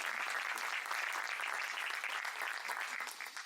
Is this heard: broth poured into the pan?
no